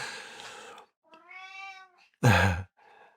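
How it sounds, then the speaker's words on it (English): A house cat meows insistently, several clear drawn-out cries close by, alternating with a man's calm speech. "And the cat is very insisting."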